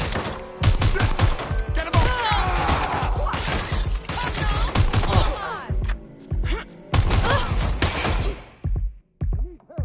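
Video game gunfire on PS5: rapid bursts of shots and impacts crowd the scene, loud and near, with shouted voices over the battle before it thins into scattered hits at the end.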